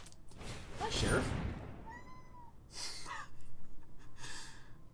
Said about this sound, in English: Did everyone hear that sweet little noise that this darling little cat made?